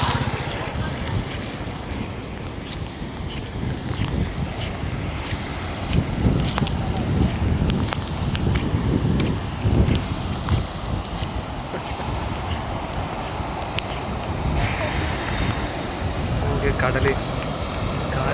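Rough, churning sea surf at the rocky shore of Pondicherry beach during a flood with monsoon rain, a steady broadband roar mixed with heavy wind buffeting the microphone, continuous and loud for the whole stretch.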